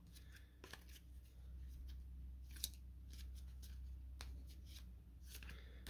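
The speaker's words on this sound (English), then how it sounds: "So shuffle our cards just a little bit." A regular deck of playing cards is shuffled for a tabletop baseball game, giving faint, quick riffling and snapping bursts spread irregularly across a quiet room.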